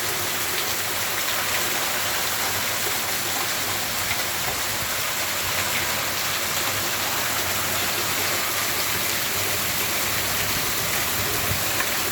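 Heavy monsoon rain pours steadily in a village market street during a storm, a dense, constant hiss of drops on surfaces and running water that holds evenly loud throughout with no voices.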